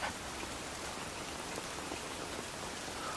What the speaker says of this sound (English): 'Tis a wet day and no mistake.